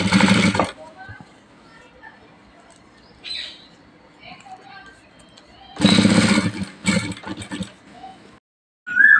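A sewing machine runs in short bursts, stitching a blouse back neck beside a potli button, with a quick whirring run at the start and two more near the end, separated by quiet handling.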